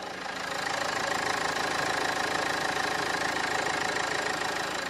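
Used SUV engine idling steadily nearby, a constant rumbling drone with a fine rhythmic ticking, loud and even throughout, no voices.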